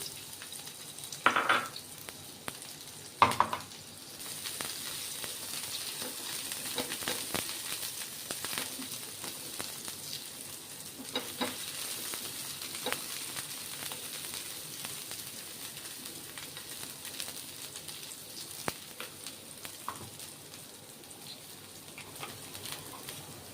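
Capsicum fries in about two spoons of oil on a hot griddle, a faint, steady sizzle over a long stretch, broken by a couple of sharp utensil clinks near the start and scattered soft scrapes.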